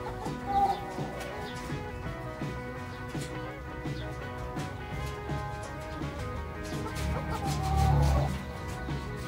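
Tan Chau bantam chickens clucking and murmuring close by in a farmyard pen, steady soft calls with a louder burst near the end, other fowl sounds mixed in.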